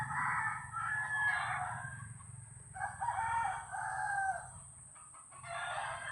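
Chickens cluck and a rooster crows repeatedly in bursts, fairly close, with a steady high electronic whine and low background rumble underneath and no talking.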